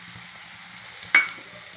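Onions and dried coriander fry in hot oil in a pan, giving a quiet, steady low sizzle with one brief louder crackle near the middle and no voices.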